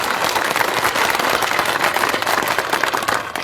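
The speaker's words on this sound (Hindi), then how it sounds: "एक ताली जोर बजा दो प्रधान जी का स्वागत की" A village rally crowd claps continuously to welcome a local headman, a dense, loud, steady roll of many hands that goes on throughout.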